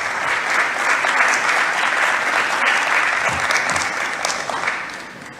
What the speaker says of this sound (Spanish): Me tocaba decir un fuerte aplauso para ellos, pero ya se lo dieron.